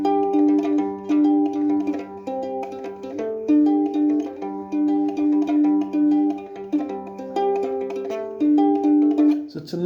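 A ukulele is fingerpicked through a song, plucking a steady, repeating arpeggio of clear single notes at an even, moderate volume. The pattern ends with a brief strum.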